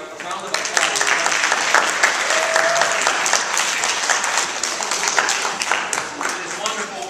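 A crowd at a group literacy lesson claps steadily and loudly for several seconds, a dense wash of hands with faint voices underneath.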